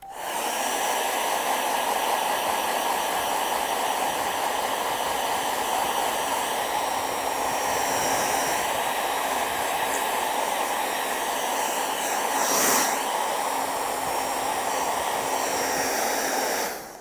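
A hair dryer blows steadily and loudly to dry paint on a landscape painting, a continuous rushing hiss with no break.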